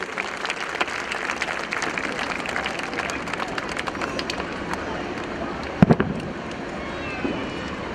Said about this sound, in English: Can we have a loud round of applause for her